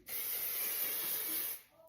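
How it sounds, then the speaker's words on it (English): One continuous spray from an aerosol can of firm-hold hairspray, a bright close hiss lasting about a second and a half before cutting off. "I'm gonna take a firmer hold hairspray"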